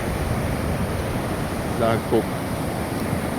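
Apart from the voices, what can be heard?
rough sea waves on the beach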